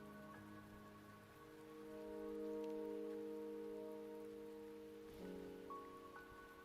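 Rain falls steadily in the fantasy game Wuthering Waves, a soft, constant wash behind sustained musical tones, with no voices.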